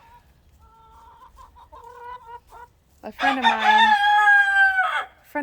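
A small bantam hen, Poppy, in a backyard flock clucks softly at first, then a loud, close rooster-like crow breaks out and holds for about two seconds.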